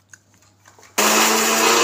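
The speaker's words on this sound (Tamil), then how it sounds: "இத நம்ம மிக்ஸில அரைச்சிட்டு அப்புறமா" A kitchen mixer grinder starts grinding ginger and garlic: after a second of quiet handling sounds the motor suddenly roars into a loud, steady whir that stays close and continuous.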